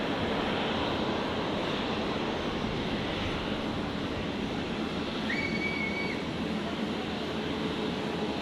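An Emirates Airbus A380 airliner at Brisbane airport, heard as a loud steady jet engine roar that fills the whole stretch without letting up, with no voices.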